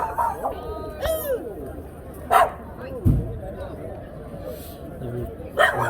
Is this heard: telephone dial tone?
no